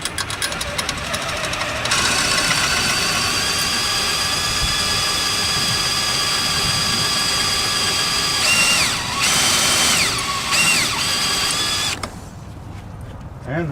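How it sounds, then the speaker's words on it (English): A power drill grinds steadily into a stripped, rusted screw on an RV refrigerator, loud and continuous with a high whine, a few pitch changes as it bites, then dropping to a lower hum near the end. "we're going to have to drill this out to get it out"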